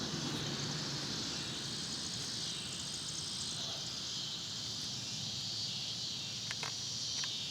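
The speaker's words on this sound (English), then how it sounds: "There's a bunch of these crickets down in here." Crickets chirp in a steady, dense high-pitched trill around an overgrown dig site at a closed boarding school, continuous and fairly close throughout, with a faint background hum and a few brief ticks near the end.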